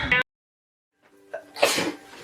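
A sneeze close up: a short sound, a pause of silence, then a rising breathy intake with a faint voiced tone and a loud explosive burst.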